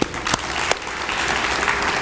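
Brief burst of audience applause at a city athletic hall of fame awards ceremony, close and steady for about two seconds with a couple of sharper claps near the start.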